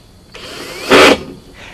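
A power driver sinks a self-tapping screw into the top plate of an Atlantic Pools round assembled pool, a low whir that swells into a short, loud grinding burst before easing off, close up.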